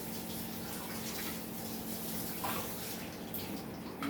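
Running tap water splashing steadily over dirty dishes being washed by hand, a continuous close rush with a faint hum underneath and no talking.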